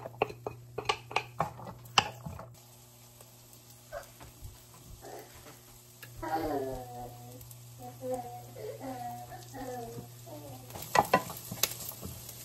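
Garlic and onion fry in melted butter with a low, steady sizzle, punctuated by clinks of a utensil against the pan; a voice rises over the cooking in the middle stretch.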